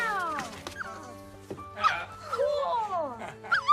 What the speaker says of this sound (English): And it's a new dog.